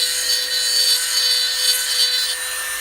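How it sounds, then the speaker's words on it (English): A Dremel rotary tool grinds a metal deck lid arm from a 1957–62 Corvette power top, giving a steady, close, high-pitched abrasive whine that runs without pause for about three seconds. "And then touch it again with the Dremel."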